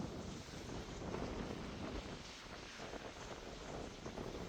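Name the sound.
wind turbines whooshing loudly on a mountain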